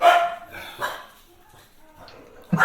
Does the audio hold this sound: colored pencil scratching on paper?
no